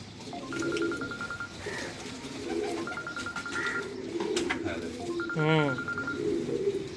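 Pigeons cooing close by in a loft, soft repeated low coos amid a warbling call and some chirps, with someone talking over and between them.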